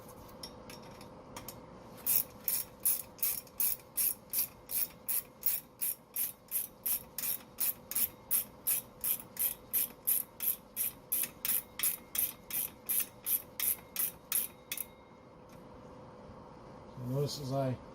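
A ratchet wrench tightens a new leaf spring bolt under a Mustang, a quick steady run of about thirty crisp metallic clicks, fairly close, followed by a short rattle at the end.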